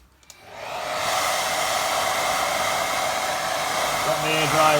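A hair dryer on a low setting starts up close by and runs steadily, a continuous airy whoosh as it dries a watercolour painting.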